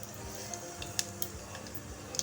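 Cumin and mustard seeds drop into hot oil for a tempering, giving a faint hiss with scattered sharp ticks and pops, sparse and quiet.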